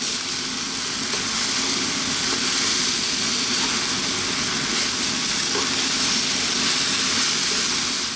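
Pork noodles with vegetables are tossed in a hot pan, giving a loud, steady sizzling hiss that runs without a break, with no one speaking.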